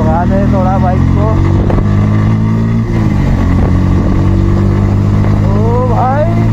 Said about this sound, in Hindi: तो अभी भगा दे थोड़ा बाइक को।